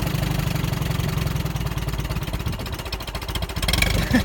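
The engine of a restored Allis Chalmers tractor idles very low, with slow, even, close-up low thumping pulses and a slight rise near the end.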